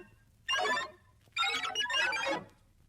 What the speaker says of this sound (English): You will know it is time to turn the page when you hear the computer sound like this.